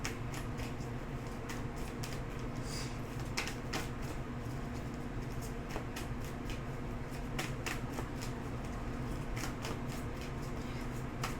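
Tarot cards are shuffled continuously and close up, a dense rapid riffling patter with no talking.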